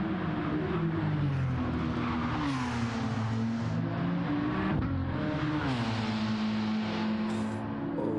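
DTM race cars, a Mercedes and a Toyota Supra, roar around the Nürburgring, their engines loud and sustained with rising and falling pitch as they accelerate and shift.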